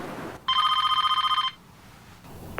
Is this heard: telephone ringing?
yes